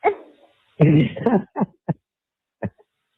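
A dog gives a few short barks and yips, closely miked and sporadic, separated by silent gaps.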